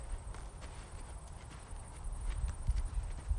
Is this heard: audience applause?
no